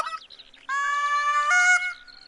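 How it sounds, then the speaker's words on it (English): Geese honking in the hunting game Hunter: Call of the Wild, a flock calling near Lawton Lake with a few short cries, then a sustained loud tonal honk lasting over a second. "And there's the geese."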